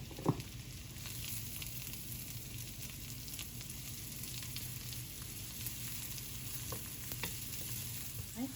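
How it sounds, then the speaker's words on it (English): Garlic browning in butter in a pan for baked mussels, a steady moderate sizzle running throughout with faint occasional clicks and stirring scrapes, no voices. "we'll brown the garlic first, and then we'll add the rest of this butter"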